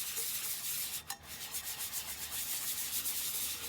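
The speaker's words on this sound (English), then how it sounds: "I'm using a 60 grit sandpaper because I'm lazy." Steady abrasive rubbing of 60 grit sandpaper against a tumbler, a continuous close scratchy rasp with a regular back-and-forth rhythm and a brief catch near the start.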